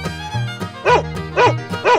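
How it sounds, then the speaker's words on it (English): A dog barks in three evenly spaced, loud, close yips over a steady musical background, with a short whimpering lead-in. "Dog."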